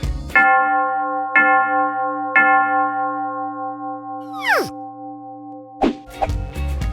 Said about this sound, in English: Bells.